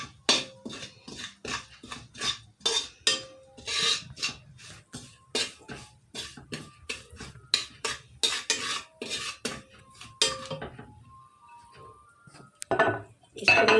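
Metal spoon scraping and clinking against a pan in quick repeated strokes as potato stuffing for bread rolls is mixed, close and distinct, with brief quiet near the end.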